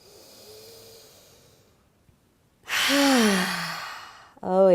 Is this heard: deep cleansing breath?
yes